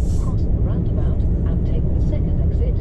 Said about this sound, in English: this cab is a bit wind noisy